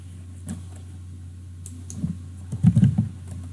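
Light keyboard typing, a short cluster of soft keystroke clicks near the end after a few isolated taps, over a steady low electrical hum.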